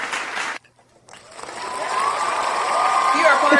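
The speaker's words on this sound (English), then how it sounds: "we got cheering and clapping" Clapping and cheering from a Pride Month podcast audience, a brief burst that cuts to near silence, then swells back into a fuller, rising wash of applause and excited voices.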